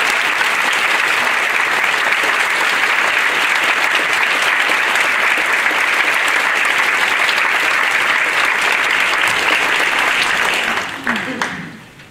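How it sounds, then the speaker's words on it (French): An audience at an awards ceremony gives sustained applause for a group of guests, dense and loud clapping holding steady for about eleven seconds before quickly dying away. "une grosse main d'applaudissements pour ces gens-là"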